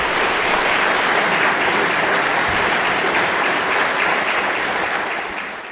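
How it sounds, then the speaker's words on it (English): A lecture audience applauds loudly and continuously, a thick wash of many hands clapping together that holds steady and then tapers slightly near the end. "Let's give them all a round of applause."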